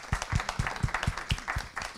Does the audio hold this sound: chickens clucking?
no